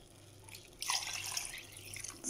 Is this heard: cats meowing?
no